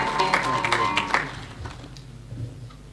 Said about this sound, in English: Would you give him an academic round of applause,